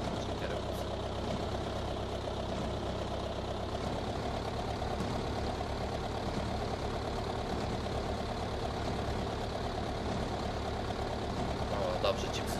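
Tractor engine in the video game Farming Simulator 2013, a continuous mid-pitched idling drone that stays constant, with someone talking over it at times.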